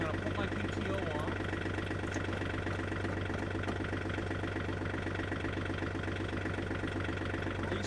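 A John Deere 3035D tractor engine runs with its PTO engaged, a steady, loud droning rumble with a dense mechanical whir that holds constant throughout, close to the listener.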